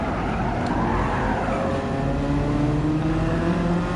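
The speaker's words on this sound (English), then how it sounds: "Next up, we have the Honda Civic Si Extra EF generation." A Honda Civic Si Extra EF-generation car in Gran Turismo 7 drives steadily, its engine a continuous rising and falling drone with shifting tones and a faint tire squeal, loud and without talk.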